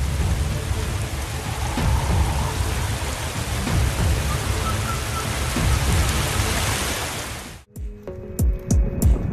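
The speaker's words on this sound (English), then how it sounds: "The rain animation on this street's definitely a bit laggy." Heavy rain pours steadily onto a street, a loud, dense hiss that runs unbroken for over seven seconds before cutting off abruptly, leaving quieter scattered knocks and rumbles.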